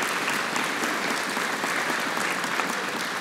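A congregation at Harmony Hill Baptist Church in Lufkin, Texas claps in praise, a thick, sustained roar of many hands clapping at an even level throughout.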